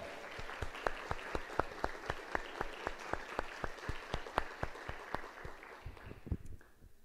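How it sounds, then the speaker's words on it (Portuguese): A church congregation applauds together after a reading during a sermon, with steady rhythmic clapping that fades out near the end. "Vamos dar uma salva de palmas para a palavra de Deus?"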